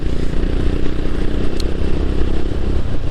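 A 350 cc single-cylinder long-stroke 2021 Honda GB350S motorcycle engine idles nearby with a loud, steady, deep thumping pulse that continues without a break.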